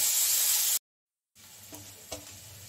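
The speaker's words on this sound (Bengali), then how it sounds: "এই যে কুচনো পেঁয়াজ দিয়ে দিচ্ছি। কুচনো পেঁয়াজটাকে একটু ভেজে নিচ্ছি।" Chopped onion hisses and sizzles loudly in a hot pan, then cuts out briefly and returns as a softer sizzle with a couple of light stirring scrapes, heard up close with no voices.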